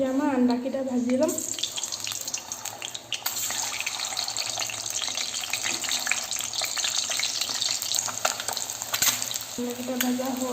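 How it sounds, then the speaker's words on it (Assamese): Eggs fry in hot oil in a pan with a steady, close crackling sizzle lasting several seconds, with brief stirring and a little kitchen clatter at the start and end. "এতিয়া মই আণ্ডাকেইটা ভাজি ল'ম।"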